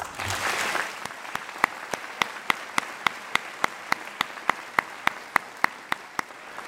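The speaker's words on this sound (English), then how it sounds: "Please join me in recognizing these students with your applause." A large crowd at a university graduate commencement applauds steadily, with one sharp clap ringing out above it at an even, regular beat.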